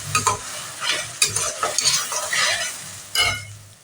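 Onion paste sizzles in hot oil in a pan while a utensil stirs it in short, scraping strokes, close and fairly loud.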